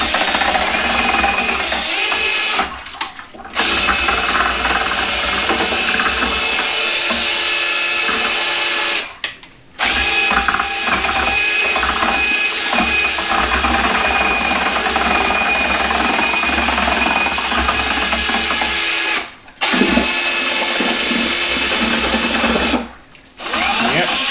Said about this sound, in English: We're going to hook up our power drill, and we're going to mix this.